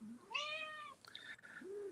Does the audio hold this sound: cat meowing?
yes